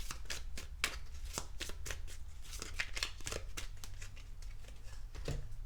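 Oracle cards from a fortune cookie deck are shuffled and drawn in a quick run of crisp, papery riffles and slaps, close and fairly loud, with no voices over them.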